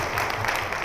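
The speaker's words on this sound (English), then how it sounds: "Give her a round of applause for that." An audience applauds at a community forum on stopping gun violence, a short, steady burst of many hands clapping that fills the room at a moderate level.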